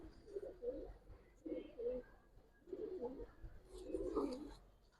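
Giribaz and coloured pigeons coo softly, producing four low, rolling bouts of cooing at a steady pace, quiet and close, with no talk.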